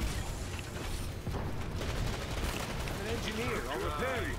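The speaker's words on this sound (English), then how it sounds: "Oh god, shotguns!" Shotgun blasts ring out in Planetside 2 gameplay, several sharp bursts scattered through a busy, noisy firefight with mechanical clatter and other game effects mixed in.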